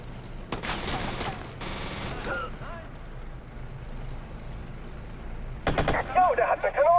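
Automatic gunfire from the video game Watch Dogs bursts out in a long rattling volley, then another short burst near the end, with game sounds between.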